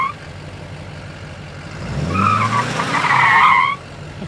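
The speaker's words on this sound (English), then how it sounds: "Do you know you could squeal tires on dirt?" Truck tires spin and squeal on dirt, rising from a low engine rumble into a loud, wavering screech for a couple of seconds before cutting off, close by with no talking.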